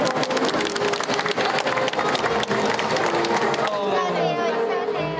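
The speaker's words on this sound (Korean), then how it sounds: "축복의 박수를 주시기 바랍니다" A crowd at a traditional Korean wedding ceremony claps loudly and continuously as the bride enters, dense applause that thins toward the end as voices chatter.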